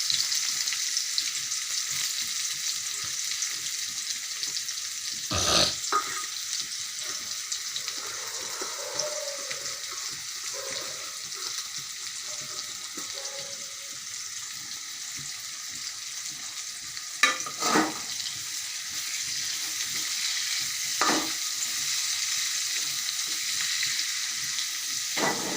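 Chopped onion and garlic sizzle in hot oil for a fish curry, a steady close frying crackle with occasional sharper clinks and stirring scrapes from a utensil.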